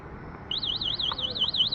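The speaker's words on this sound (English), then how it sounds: "that's the alarm in it." The built-in anti-theft alarm of a Joyor LR8 electric scooter starts up as a fast warbling electronic siren, rising and falling steadily at moderate volume over low background noise.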